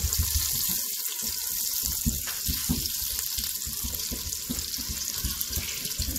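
Meatballs brown in a hot pan, giving a steady, dense sizzle and crackle that runs throughout with no one speaking.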